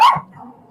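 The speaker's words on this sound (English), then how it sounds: "Sorry about the dogs in the background." Single sharp dog bark, fairly close, trailing off into a faint low whine.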